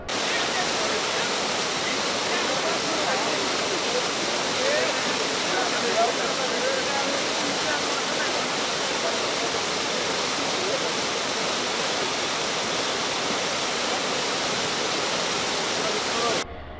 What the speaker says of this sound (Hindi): जगह जगह पर पहाड़ों से झरने बहते भी इस यात्रा के दौरान आपको देखने को मिलेंगे।